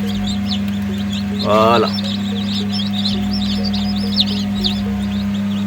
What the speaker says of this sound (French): On va enlever toutes ces coquilles là pour laisser vraiment de l'espace aux poussins de s'éclore facilement.